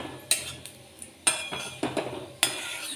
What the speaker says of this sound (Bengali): তারপরে এটাকে আমি একটুখানি নেড়ে চেড়ে নেব।